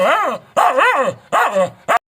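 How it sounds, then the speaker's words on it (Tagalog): A pet dog lets out four loud, close howling barks in quick succession, each a drawn-out wavering yelp with short gaps between. "palabasin ko muna yung isang alaga ko na aso"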